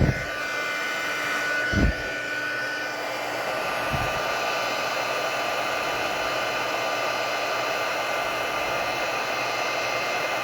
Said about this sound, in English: So our heating tool has two settings. One for drying, two for heat embossing.